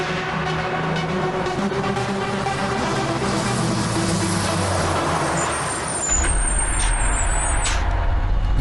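A truck stopping in the middle of the road, a steady engine rumble that ends in a loud hiss of released air brakes, followed by a high squealing tone near the end.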